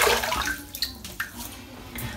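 Water splashes in quick, uneven bursts as a face is wetted in a bathroom before shaving, close and moderately loud with no talking.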